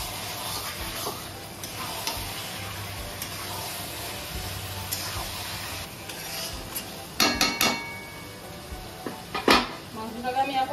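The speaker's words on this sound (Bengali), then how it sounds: "এখন ভালো করে মশলার সঙ্গে মিশিয়ে নেব।" Marinated pork gets stirred with spices in a pan for a desi-style Bengali pork dish: scraping and clinking of a utensil against metal, soft and intermittent, with a few louder knocks near the end, alongside someone speaking.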